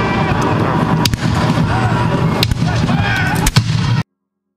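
Reenactment troops fire a musket volley at a battle reenactment: loud sharp cracks stand out over continuous crowd and field noise, with a few separate reports scattered through the scene.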